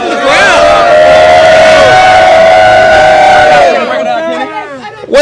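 Crowd at a championship awards event cheering and whooping loudly, a sustained roar with shouts that fades out after about four seconds.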